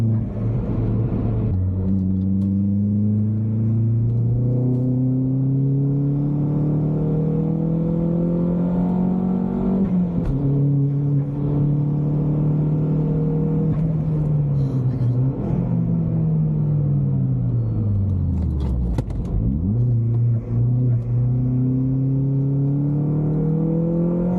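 A Vauxhall Astra VXR engine drones steadily and climbs in pitch as it accelerates down the straights at Donington Park on a track day, easing off briefly a few times before revving up again, with faint voices now and then.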